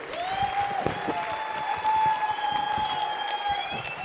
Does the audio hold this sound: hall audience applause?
yes